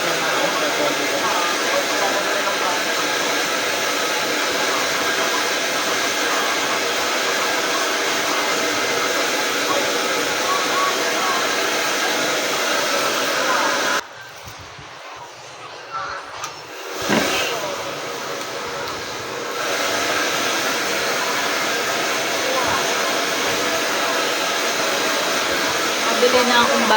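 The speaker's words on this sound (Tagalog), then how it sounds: "Blower muna po natin mga asyopa." Hair dryer blowing on a child's curly hair before a Brazilian straightening treatment, a steady loud close whoosh that cuts out briefly midway and then resumes, with voices faintly under it.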